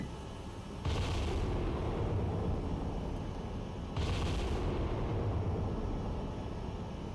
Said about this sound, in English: Bridge, battery, guns engaging. Battleship, do your thing.